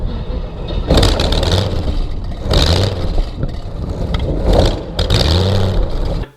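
The geared engine of a T-51 Mustang kitplane runs loudly, its propeller pitch and power rising and falling in repeated throttle bursts, close by.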